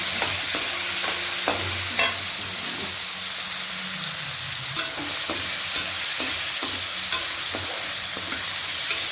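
Potatoes with turmeric frying in oil in a pan, a continuous close sizzle punctuated by regular scraping stirs and utensil taps, no talk.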